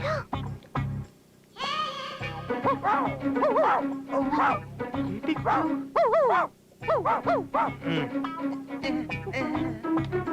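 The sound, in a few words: man imitating dog barking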